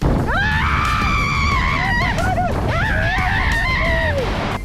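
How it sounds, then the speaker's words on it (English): A rider's loud, sustained scream on the 60-foot Sling Shot water slide drop at a resort water park, rising and wavering in long held wails for several seconds over a steady roar of rushing water. "Pretty epic scream"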